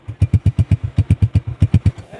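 A Honda 125 motorcycle engine runs close by with a steady, fast thumping putter of evenly spaced exhaust pulses, loud and alone.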